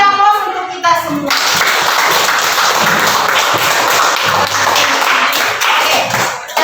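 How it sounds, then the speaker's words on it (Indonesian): Classroom audience applauding after a biology lesson on living and non-living parts of an ecosystem: sustained, dense clapping from many hands, steady and fairly loud for several seconds after a brief opening burst. "Kita beri aplaus untuk kita semua."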